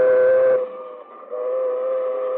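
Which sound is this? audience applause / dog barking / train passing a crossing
train passing a crossing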